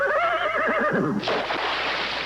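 A horse whinnies loudly with a long wavering call that breaks into rough, breathy snorting noise, heard in a 1984 television beer commercial.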